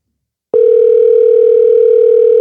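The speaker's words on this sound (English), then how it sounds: "I guess nobody's going to answer the phone." An unanswered outgoing phone call gives a single steady electronic tone that starts abruptly after a brief silence and holds loud and unbroken to the end.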